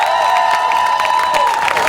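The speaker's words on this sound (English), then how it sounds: "Okay, by a show of applause, Pete." A crowd at a Vancouver 2018 election debate applauds and cheers for a candidate, steady and fairly loud across the short stretch, with a sustained tonal element running through the noise.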